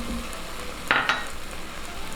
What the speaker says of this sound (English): let's mix all of our ingredients